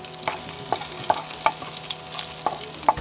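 Sliced garlic sautéing in oil in a pan used for frying tilapia, a steady close sizzle broken by sharp, irregular taps and scrapes of a stirring spatula against the pan, with no talking.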